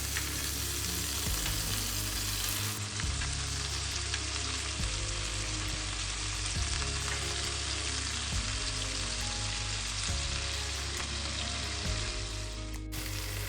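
Meatballs frying in a pan, a loud, continuous close sizzle with faint periodic scrapes and pops running throughout, no voices.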